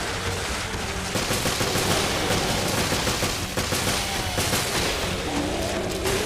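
Rapid bursts of gunfire from the video game Resident Evil Revelations rattle on loudly and continuously, thick with layered shots and fusillade-like volleys and no talk over them.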